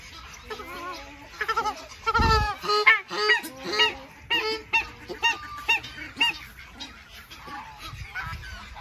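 Egyptian geese honk loudly and close by in a rapid, repeated series of harsh calls that overlap and continue throughout, set at a poultry breeder's pen beside a pond.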